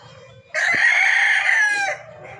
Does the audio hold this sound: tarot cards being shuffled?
no